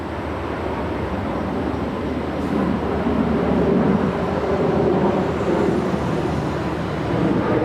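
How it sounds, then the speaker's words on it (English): A Qatar Airways Airbus A350-1000 departing LAX makes a steady, distant, broad jet-engine roar that swells slightly in the middle and holds at a constant level throughout. "That is Qatar's 742 Heavy departing to Doha. It's an Airbus A350-1000."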